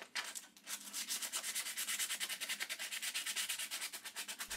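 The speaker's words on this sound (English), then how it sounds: "use some fine-grained sandpaper to remove any rough spots." Fine sandpaper rubs over wood in quick, steady back-and-forth strokes, a soft rhythmic scratching with no voices.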